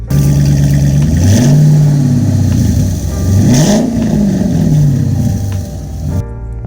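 Dodge Charger V8 with an aftermarket exhaust and the active valves deleted, revving loud and close in two deep, rising and falling pulls over a rumbling idle, cutting off at the end.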